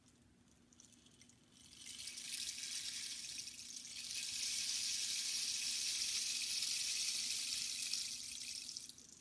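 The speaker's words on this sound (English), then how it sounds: "This is called a rain stick." A rain stick is slowly turned so the beads or rice inside cascade, building from near silence into a steady, hissing shower of fine patter that holds for several seconds and then thins out.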